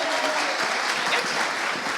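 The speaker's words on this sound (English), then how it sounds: "Big round of applause for them." Audience at a B2B sales event applauding speakers on stage, a dense, steady burst of clapping from many hands filling the room, loud and continuous without talk.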